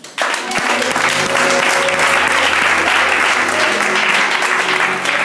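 A church congregation claps and cheers in steady, dense applause during a French-language worship service, the sound sustained and loud throughout with some voices mixed into the crowd noise.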